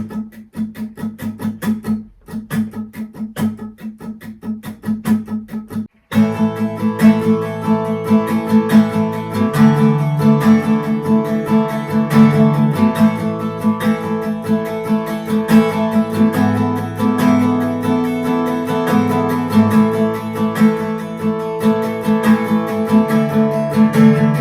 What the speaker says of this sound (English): when she plays this 16 note strumming, she accentuates on the first, the second and the fourth beat